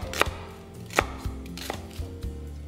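A knife chops half an onion coarsely on a board for oxtail soup, about eight sharp thuds in an uneven rhythm, close and distinct, with no voices.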